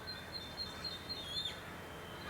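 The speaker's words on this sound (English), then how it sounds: "Great tit." A great tit sings faint, high, repeated notes over a quiet outdoor background, with occasional soft chirps.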